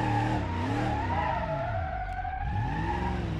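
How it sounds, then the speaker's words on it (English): Moonhawk speedway car in BeamNG Drive with a Muncie transmission, its engine and gearbox screaming loudly at high revs, the pitch sliding up and down as the car accelerates and drifts, with no talk over it. "you can hear that nice Muncie transmission screaming"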